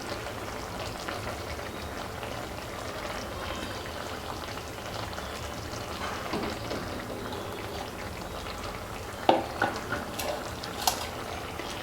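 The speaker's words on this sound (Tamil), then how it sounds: "இப்போ இந்த டைமில் வந்து நம்ம ஃபிஷ்ஷை வந்து ஆட் பண்ணிடலாம்." Six pieces of vanjaram fish settling into hot oil in a pan for a coconut fish curry, giving a steady soft bubbling sizzle throughout with a few sharper pops near the end, no talk.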